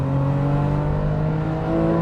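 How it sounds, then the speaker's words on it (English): A 991.1 Porsche 911 GTS flat boxer engine revving with a loud, sustained, steady high wail heard close from inside the car, no voices over it. "the wail of the 911 and the flat boxer engine is just, you don't get this sound anymore"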